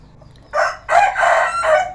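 A rooster crows loudly and close by in two long drawn-out calls, with faint clucking before it starts.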